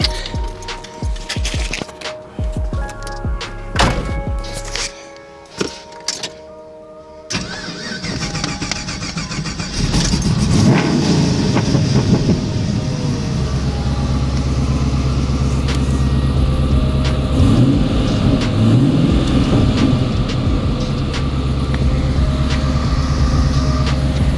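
A 1970 Chevy Nova Yenko SC427 with ZL1 additions turns over with choppy cranking, then fires into a loud, steady rumbling idle that continues strongly, close by.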